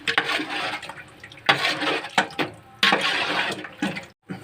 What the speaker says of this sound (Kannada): ಮಸಾಲ ರುಬ್ಬಿರುವಂತಹ ಜಾರ್ನಲ್ಲಿ ನಾನು ಜಾರಿಗೆ ನೀರು ಹಾಕಿಬಿಟ್ಟು ತೊಳೆದು ಹಾಕೊತಾ ಇದ್ದೀನಿ